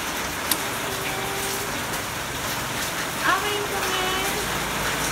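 Steady rain falls outdoors at a temple, a constant close hiss of drops on surfaces that runs unbroken throughout, with faint voices and a brief clatter in the background.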